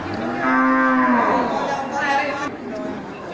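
A Simmental breeding cow moos loudly and close by in one long, drawn-out low call, with a second shorter call following, in a livestock market setting.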